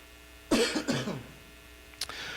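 A hoarse male presenter recovering from COVID and bronchitis coughs twice in quick succession, close to the microphone, then gives a short, sharper cough after a brief pause.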